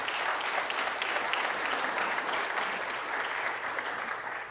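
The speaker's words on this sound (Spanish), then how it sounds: "dale ese aplauso al Señor" A church congregation applauds during a sermon, a dense, steady wash of many hands clapping that stays loud and even throughout with no voices on top.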